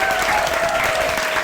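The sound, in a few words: audience applause for speaker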